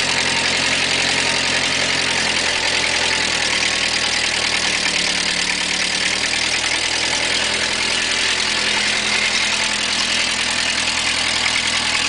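A Ford 8N tractor engine runs steadily just after starting, a loud, even idling rumble close by that holds unchanged throughout with no talking over it.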